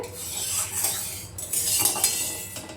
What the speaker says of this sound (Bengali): ওই তেলের ভেতরে কিন্তু আমি এবার এই ব্যাটারটা ঢেলে দিলাম